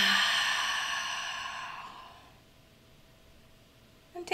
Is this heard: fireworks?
no